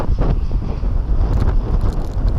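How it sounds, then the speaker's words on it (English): Strong, gusty wind outdoors in the Faroe Islands during rainy, worsening weather, heard as a loud continuous roar buffeting the microphone throughout, with no voices. "it's got really windy"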